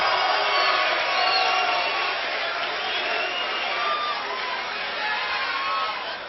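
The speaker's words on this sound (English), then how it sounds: "A very pro-Rocky Battistini crowd here at Table Mountain Casino" A boxing crowd at Table Mountain Casino roars and cheers for heavyweight Rocky Battistini of Reno, Nevada, with steady, dense whoops and shouts at close range throughout, without a break.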